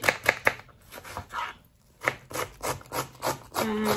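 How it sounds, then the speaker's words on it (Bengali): Onion, garlic and ginger are chopped with a knife on a cutting board in a home kitchen, uneven bursts of dull knocks and scraping with short pauses between. "এখন আমি পেঁয়াজ রসুন আর আদা একটু কাটিয়া কুটিয়া নিব"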